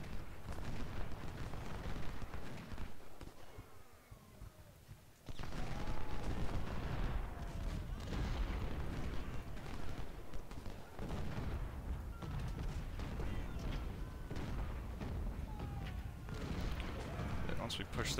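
Cannon and rifle crossfire in a Civil War video game at the Battle of Franklin, a steady clatter of gunshots and booming blasts running throughout, briefly dipping before a loud surge of dense firing.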